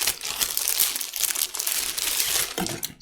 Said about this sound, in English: Let's rip it open and find out.